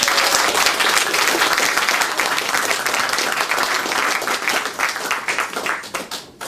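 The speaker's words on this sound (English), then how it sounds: "Round of applause, please." A lecture audience applauds loudly and steadily for several seconds, then the clapping thins out and fades at the end.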